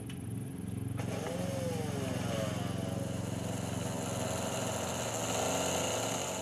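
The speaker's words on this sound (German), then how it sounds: "Er bohrt winzige Materialproben aus den Stücken." A small drill bores tiny material samples from ancient copper finds inside an on-site laboratory container, its motor running as a steady, loud whine with no pauses.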